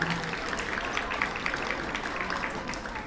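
An audience at a third and fourth grade spelling bee applauds, a dense, even patter of many hands clapping, moderately distant and sustained for a few seconds.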